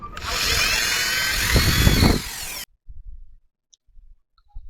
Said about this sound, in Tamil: நீங்கள் கொஞ்சம் ஹார்டாக பிடிச்சிங்கன்னா ஓட்ட போட்டுரும்